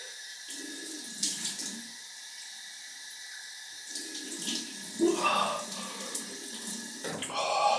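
Tap water running into a sink for a post-shave rinse in a bathroom, a steady close hiss with brief splashy bursts as hands and face meet the stream.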